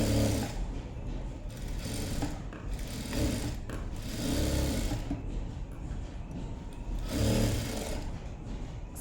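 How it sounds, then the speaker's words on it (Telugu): A sewing machine stitches a cloth seam, running in a steady mechanical whir that swells and eases across several bursts, close and fairly loud with no voices. "జాయింట్ చేసేటప్పుడు నీట్గా క్లాత్ని అయితే ఇలాగానే వేసుకొని స్టిచ్చింగ్ అయితే చేయాలండి."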